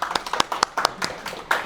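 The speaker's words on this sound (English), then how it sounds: "So a round of applause for him." Brief scattered hand claps from a small group at a technical lecture, uneven and sparse, lasting under two seconds.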